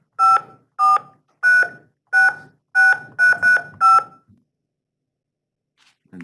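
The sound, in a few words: telephone keypad dialing tones for long distance number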